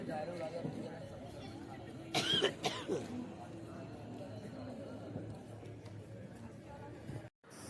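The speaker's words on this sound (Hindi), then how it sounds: "ये दिना में इतना खांसी आवत हो।" A few coughs and throat clearing from a person on a riverside ghat in Varanasi at night, a short burst over steady murmuring background noise.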